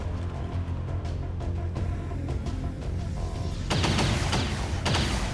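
Sustained gunfire from the turn-based strategy game XCOM 2 with the Long War 2 mod, a steady stream of shots under a game soundtrack that grows louder and denser partway through, with sharp bursts standing out near the end.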